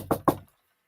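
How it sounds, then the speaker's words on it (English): Two firm knocks land on a door in quick succession, close and distinct, then silence. "somebody's at the door. Shall we let her in?"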